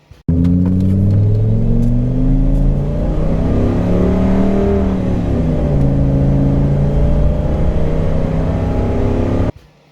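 A lifted V10 gasoline van revs hard and accelerates at an eighth-mile drag race meet, its loud, sustained engine roar shifting pitch steadily for about nine seconds with no talk over it.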